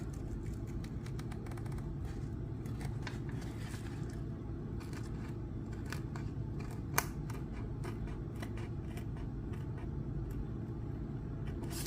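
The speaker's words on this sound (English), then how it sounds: "Then I'm going to use my scissors and cut from here." Repeated sharp snips of scissors cutting through a mosaic tile sheet, set against a steady low rumbling background hum; no talking.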